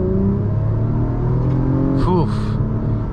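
A 2023 Acura TLX Type S sedan with a 10-speed transmission accelerates hard from inside the cabin, a steady loud engine drone rising in pitch near the end, with no speech.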